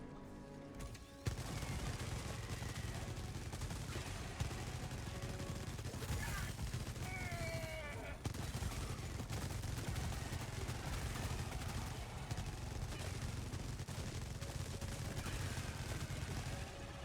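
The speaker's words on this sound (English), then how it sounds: "This is kind of just like an HMG emplacement that you can bring with you." A heavy machine gun emplacement in the video game Helldivers 2 fires continuously in a dense, steady roar of rapid shots, loud throughout with battlefield noise layered over it.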